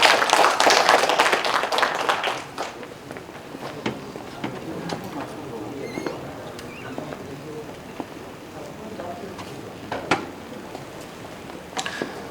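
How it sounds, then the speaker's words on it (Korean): An audience at a fruit growers' pledge rally in Korea claps to welcome two guests, a burst of loud applause that quickly thins to scattered individual claps and fades under quiet room noise. "두 분을 위해서 큰 박수로 환영해 주시기 바랍니다"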